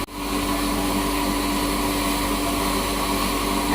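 A steady, loud mechanical whir of an electric flour mill grinding wheat runs continuously, a dense droning hum with no breaks and no voices.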